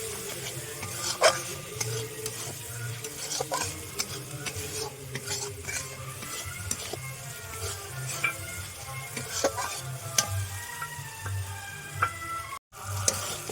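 Spiced masala with chili powder stirred and sautéed in a pan for a Bengali fish kalia, a soft continuous sizzle with a spatula scraping and tapping at intervals, close and fairly quiet.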